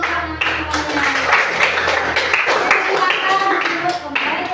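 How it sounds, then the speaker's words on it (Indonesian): Children in a classroom clap in applause, a lively burst of hand claps mixed with chatter and voices, close and fairly loud. "Oke, tepuk tangan untuk anak-anak semuanya."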